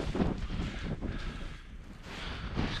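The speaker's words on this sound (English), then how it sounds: "The wind's picking up now." Wind gusting across an exposed wild camp in the Lake District during freezing, rainy weather, a steady broadband rush buffeting the microphone throughout, swelling slightly toward the end, with no voices.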